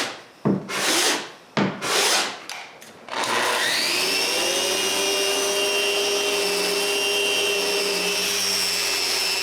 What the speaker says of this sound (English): When the glue is dry, I sand it super smooth.